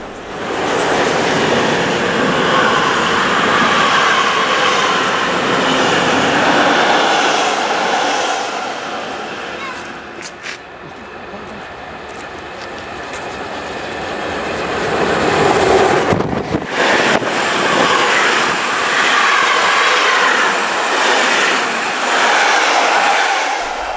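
Steam locomotive 01 1519 of the Eisenbahnfreunde Zollernbahn arrives with a special train from Gera at a Dresden steam meeting, a loud continuous rolling rumble and hiss that dips briefly, then swells again.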